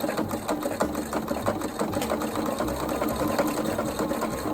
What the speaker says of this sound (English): So let's go ahead and sew our glove together.